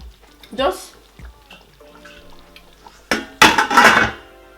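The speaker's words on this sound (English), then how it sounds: "This soup is ready to come out of this pot" Nigerian Ofe Nsala soup ladled from a cooking pot: a spoon knocks and scrapes against metal in scattered clinks, building to a louder burst of clattering, with a voice talking nearby.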